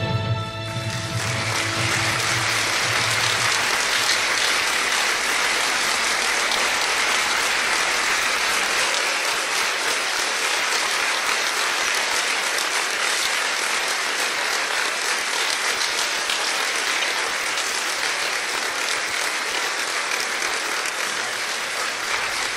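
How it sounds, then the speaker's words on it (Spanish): A live concert audience applauds steadily, a dense, loud wash of clapping that swells quickly after the opening moment and holds without a break for over twenty seconds. "Este aplauso para María Inés, la autora del texto que acabo de leer."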